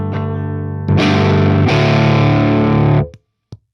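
Electric guitar through a Beetronics Fatbee overdrive pedal, starting with a sustained clean chord, then switching to thick distorted chords that ring out loud and alone before cutting off, with a brief final strum.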